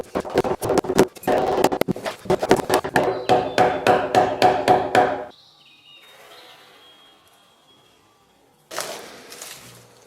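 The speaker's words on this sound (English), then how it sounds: "But for old time's sake, I'm using a chisel." Steel chisel struck repeatedly into a timber frame hewn from trees for a house, a fast run of loud, sharp knocks for about five seconds, then quiet with faint birdsong and a final burst of knocking.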